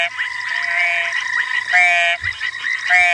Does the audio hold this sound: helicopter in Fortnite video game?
no